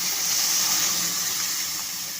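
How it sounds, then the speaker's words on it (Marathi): Cooked dal and pumpkin poured into a kadhai for dalcha, a steady wet gushing hiss that runs close and continuous throughout with no talking. "डाळ आणि भोपळा शिजवून घेतलेला होता तो कढईमध्ये घालून घ्यायचा"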